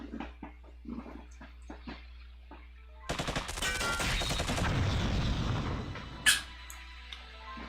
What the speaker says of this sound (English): Gotta love the sound of gunfire.